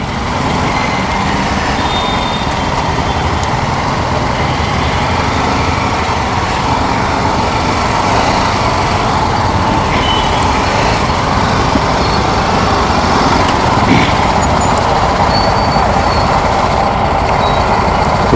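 A BMW G310 GS single-cylinder motorcycle on a test ride, its engine hum blending with steady road and wind noise, loud and continuous throughout with no pauses.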